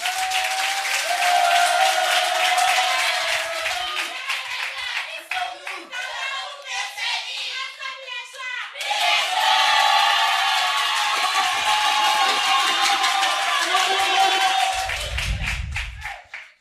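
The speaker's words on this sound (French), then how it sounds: "je vous demande d'accueillir, s'il vous plaît, sous un tonnerre d'applaudissements, le lycée de Tokoin 1" Loud crowd applause with cheering and whistles from a school audience at a Lycée de Tokoin 1 competition event, sustained dense clapping that dips briefly mid-way then swells again before fading out.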